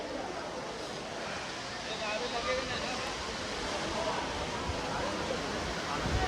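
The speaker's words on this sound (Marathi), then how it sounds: "तिकडे बघा धबधबा, खूप मोठा धबधबा आहे" A large waterfall near the Ekvira temple at Karla gives a faint, steady broadband roar that stays constant, distant and unbroken throughout.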